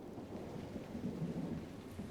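Rain and a rolling peal of thunder in the rain-soaked Crestwood area of Dragon Age: Inquisition: a low, continuous rumble under a steady wash of rainfall, with no voices.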